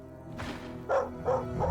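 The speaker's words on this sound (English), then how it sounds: "Why are there so many dogs?" Dogs bark in the video game Stoneshard, with several sharp, close barks and yips in an uneven burst that repeats three or four times over a low game ambience.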